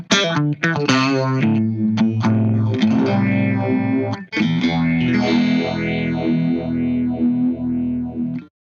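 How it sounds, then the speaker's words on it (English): Electric guitar through an MXR Phase 90 four-stage phaser pedal, with fixed depth and feedback, giving chords and single notes a sweeping, swirling whoosh that rises and falls in a slow repeating cycle, loud and up front. "4-stage phaser with a set depth and a set amount of feedback."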